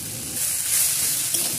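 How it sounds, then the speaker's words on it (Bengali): Samosa filling of potato and spices is being stirred in a hot pan, with a steady, loud sizzle and hiss, soft scraping stir sounds and a brief clatter near the end. "ভালো করে নেড়ে নিচ্ছি। এটা হচ্ছে পুর তৈরি হচ্ছে।"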